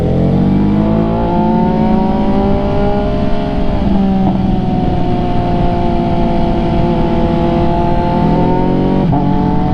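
An MV Agusta motorcycle engine runs steadily near and loud, holding a sustained rev with slight pitch swells and a couple of brief blips, with no talking over it.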